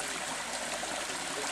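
A forest stream flows steadily along a gully, a continuous broadband rush and trickle of water heard close and alone, without talk.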